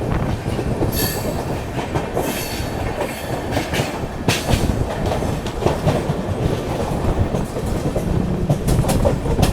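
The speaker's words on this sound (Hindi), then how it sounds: "ट्रेन हमारी ने काफ़ी अच्छा एक्सीलरेट किया है।" The 12809 Howrah Mail passenger train accelerates on the rails near Dongargarh, a loud continuous rumble with rhythmic clickety-clack of wheels and brief squeals, heard close and steady without voices.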